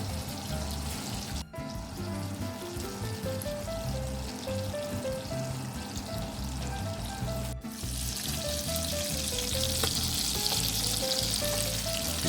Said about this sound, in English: get the color on the salmon, get the skin crispy